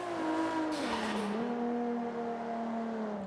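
Nissan R34 GTR driving in Forza on a street circuit at Long Beach, its engine note dropping and then holding steady under a brief tire squeal, close and continuous with no voices.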